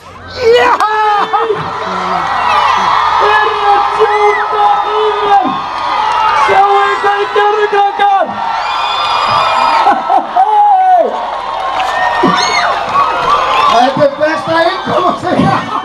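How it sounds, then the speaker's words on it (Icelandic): A festive crowd at a small-town celebration cheers, whoops and shouts continuously, with children's voices and excited babble rising in loud waves throughout. "Nú að sjálfsögðu brutust út mikil fagnaðarlæti á svæðinu."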